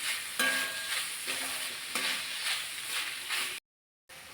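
Deboned sardines sizzle loudly with onions in a pan for a Kerala-style mathi thoran, a steady hot frying hiss broken by rhythmic stirring scrapes, cutting out briefly near the end.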